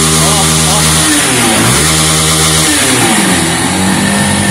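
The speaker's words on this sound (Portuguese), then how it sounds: "Motinha ligou, ligou." A Honda Start 160 motorcycle engine revving loudly and close by, its pitch climbing and dropping in several throttle blips over a continuous rough running drone.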